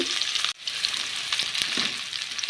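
Oil sizzling steadily as ginger and garlic fry, a continuous crackling hiss with a brief drop near the start and occasional stirring clicks.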